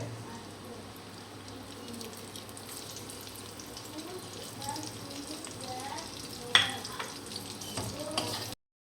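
Chopped onions fry alongside fried tengra fish in a pan, giving a soft, steady sizzle throughout, with one sharp utensil clink near the end.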